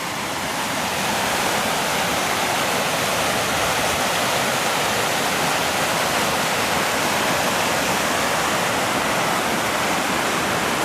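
Heavy water pours in a steady, loud roar below an old 1930 dam near Saint-Brieuc, a continuous dense rush that holds unchanged throughout with no voices.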